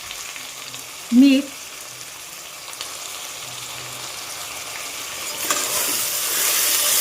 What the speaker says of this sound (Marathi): टोमॅटो आणि गाजर आपण सोबत फ्राय करणार.